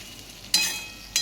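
A spiced mango pickle mixture stirred in a pan, with two short scraping strokes over a faint background sizzle.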